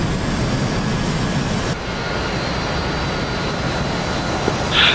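Jet aircraft recover aboard a busy carrier in DCS World, a loud continuous engine roar with wind noise that thins slightly partway through, ending in a brief burst.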